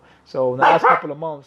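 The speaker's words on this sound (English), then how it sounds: "He's like barking at something." A pet dog barks indoors in a few short, loud yelps layered over someone talking, the barks rising sharply in the middle of his sentence.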